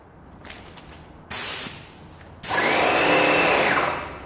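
Airless paint sprayer firing in two bursts, a short spray then a longer steady hiss that fades at the end, loud and close with no talking.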